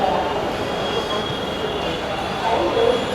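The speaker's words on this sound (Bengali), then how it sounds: "আমরা এখন মেট্রো রেলে, এদিক থেকে মেট্রো রেলটা আসবে।" A Dhaka metro rail train runs with a loud, steady rumble and rolling hum, with a faint high squeal of wheels, close by and continuous for the whole few seconds.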